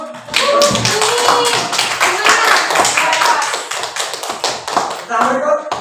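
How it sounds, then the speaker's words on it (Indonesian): Applause for a student group during a classroom exam presentation, a steady burst of clapping from a room of people lasting several seconds, with some voices mixed in. "kita berikan aplaus"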